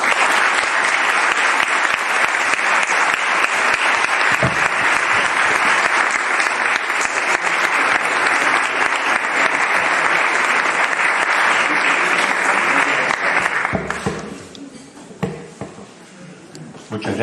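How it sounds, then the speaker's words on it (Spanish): Audience at a Catholic talk on Saint Athanasius applauds Father Alfredo Sáenz, a loud, sustained, dense clapping lasting about fourteen seconds before quickly fading into quiet room tone. "le pido a ustedes un fuerte aplauso para el padre Sáenz"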